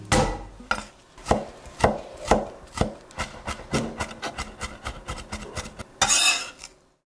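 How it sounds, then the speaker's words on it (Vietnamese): Rapid knife chopping as shallots are minced on a wooden board, a steady run of crisp taps that fades near the end, with a brief scraping sweep. "Đầu tiên thì mình băm nhỏ hành tím."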